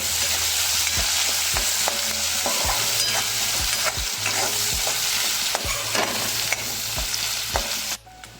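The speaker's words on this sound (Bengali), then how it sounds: "মাছগুলো আমার ভাজা হয়ে গেছে একটু লাল লাল করে ভেজে নিয়েছি" Dried Bombay duck fish frying in oil with turmeric, a dense continuous sizzle close up, broken by regular scraping knocks of a spatula stirring roughly once a second, ending abruptly.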